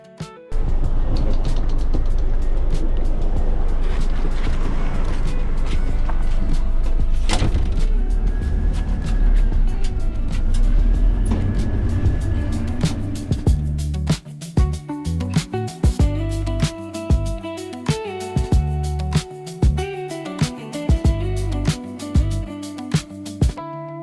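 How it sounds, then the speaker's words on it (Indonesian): A DAMRI bus travels the road from Tanjung Selor to Berau, heard from inside the cabin as a steady low engine and road rumble, followed by music with a regular beat over the running engine. "Bus pun melanjutkan perjalanan melintasi sebuah bundaran."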